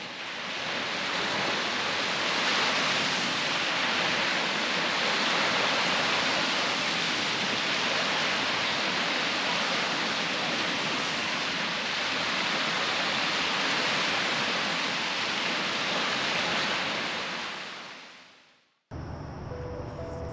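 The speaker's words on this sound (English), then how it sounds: "I'll leave you with the remainder of this video and a little bit of the sounds of the water" Lake water laps steadily at the beach at Presque Isle, a constant close rushing wash of small waves with no breaks, cutting off abruptly near the end.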